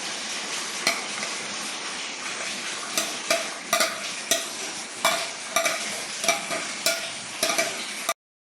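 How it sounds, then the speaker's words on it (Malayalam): Chicken perattu with fried coconut bits and onion is stirred in a hot pan, a steady sizzle broken by repeated sharp scraping clicks of the spoon, then an abrupt stop. "അതിലേക്ക് നമ്മൾ നേരത്തെ വറുത്ത് വെച്ച നമ്മുടെ നാളികേര കൊത്തും സബോളയും ഇട്ട് കൊടുക്കാം"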